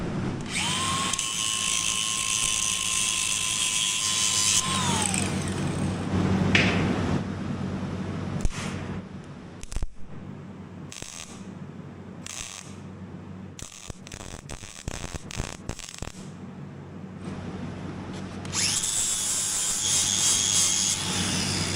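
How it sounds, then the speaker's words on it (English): Angle grinder cleaning rust off a junkyard axle before welding, a loud high whine at the start, a stretch of scraping and knocks in the middle, then the grinder spins up again near the end. "I'm gonna take my grinder though, and I'm going to get into that rust to clean that out"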